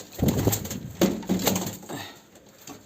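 Homing pigeons coo in a loft in a few close, throaty bursts over about three seconds, fading toward the end, with no talking.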